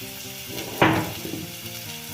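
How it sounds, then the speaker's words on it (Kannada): Finely chopped onions fry in a pan for a cluster bean stir-fry. A single sharp sizzle bursts up as they hit the hot oil, then fades to a quieter hiss over a steady background. "2 ಸಣ್ಣದಾಗಿ ಕಟ್ ಮಾಡ್ಕೊಂಡಿರೋ ಈರುಳ್ಳಿ ಹಾಕಿ ಈರುಳ್ಳಿ ಕಲರ್ ಚೇಂಜ್ ಆಗೋವರೆಗೂ ಫ್ರೈ ಮಾಡಿ"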